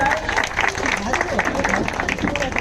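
Audience applause rings out at a quiz competition held for a Saraswati Puja celebration, a steady sustained burst of clapping with voices carrying over it.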